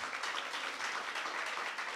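A dense, steady round of applause fills the room for the finalists of a business pitching competition at a workshop, with many hands clapping evenly and continuously throughout.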